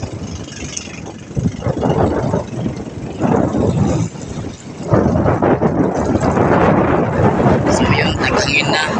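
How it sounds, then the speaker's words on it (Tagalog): Strong wind buffets and roars across the microphone outdoors in the provinces, with loud turbulent gusts that rise and fall and build stronger in the second half. "naghangin na, malakas ng hangin"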